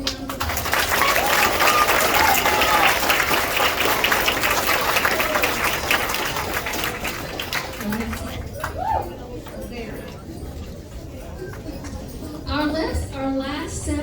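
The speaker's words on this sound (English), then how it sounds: "Let's give them a big round of applause." Audience applauding at a sixth-grade school awards ceremony in a gym or hall, loud continuous clapping that tapers off, followed by murmuring voices and a speaker starting to talk.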